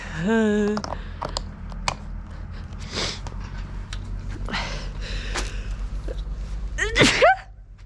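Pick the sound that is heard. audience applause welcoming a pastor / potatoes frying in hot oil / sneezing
sneezing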